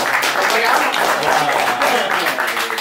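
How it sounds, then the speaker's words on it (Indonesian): An audience at a Sundanese performance gives sustained, dense applause, loud and close, with voices mixed into the clapping throughout. "Tepuk tangan."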